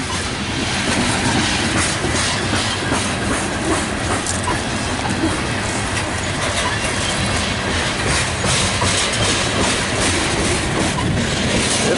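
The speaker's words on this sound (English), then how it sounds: "You hear that bump, bump, bump? That's a flat spot on the wheel." A slow-moving freight train rolls past close by, one wheel carrying a flat spot, and it gives steady loud rumbling with rhythmic clacking thumps over the rails and faint hiss and squeal.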